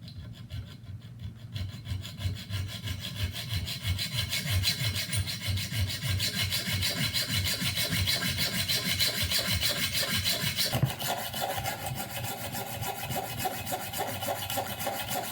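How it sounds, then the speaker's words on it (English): Hacksaw cutting through a steel chain clamped in a vise: a continuous run of rhythmic, rasping back-and-forth strokes, close and steady throughout, with no talk. "So I got my chain secured in a vise, and I got it marked out where I want to cut it."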